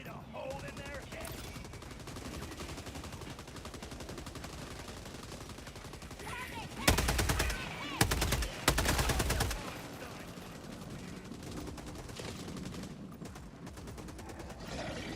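Gunfire in the Helldivers 2 video game, rapid bursts of automatic fire that swell loud for a few seconds in the middle, set against a steady bed of battle noise and faint voices.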